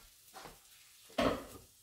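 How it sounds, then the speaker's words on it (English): Matzah Brei pizza sizzling and melting in a pan: two short bursts of frying crackle, the second louder and closer, with quiet gaps between. "I don't have no carbs, so it's now melting. You can hear it sizzling."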